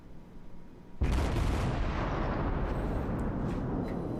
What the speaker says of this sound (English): Now he's shooting at me.